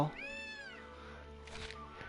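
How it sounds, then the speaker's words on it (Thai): A cat character in the video game Gravity Rush gives a drawn-out rising and falling meow, fairly faint over quiet background game sound. "นางเหมียวนี่พูดแต่เมียวเมียวเมียวอย่างเดียวนะคะ ไม่รู้เรื่องเลยพูดว่าอะไร"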